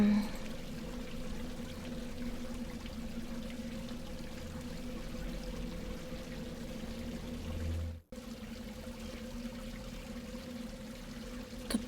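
Steady running water from a small stream in a video game, a continuous broadband wash with a brief dropout partway through, heard alone without talk.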